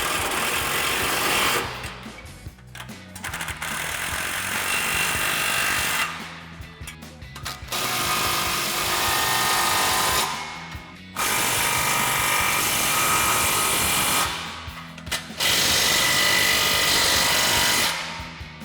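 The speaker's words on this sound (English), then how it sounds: "we've got our 15mm socket on our impact and a 17mm wrench for our hardware on our flange" Impact wrench with a 15mm socket tightening flange clamp hardware on an MBRP Armor Plus single exhaust system on a Ford F-150, loud close rattling bursts of a few seconds each, repeated four times with short pauses between.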